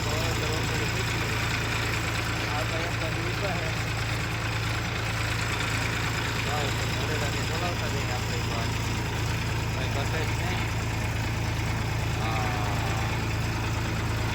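A tractor engine idles steadily with a low, constant hum throughout on a farm field, while people talk over it.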